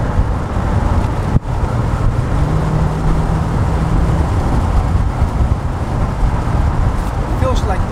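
Inside a 1987 Corvette C4 convertible driving through turns, a constant engine and road rumble fills the cabin, with a brief thump partway through.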